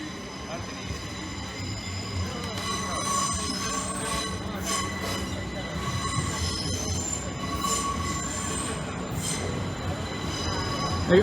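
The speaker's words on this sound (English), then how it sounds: "Right, here's the London train." A London train passes over the Lincoln High Street level crossing, wheels squealing with metallic screeches over a steady rolling rumble, fairly quiet and sustained throughout.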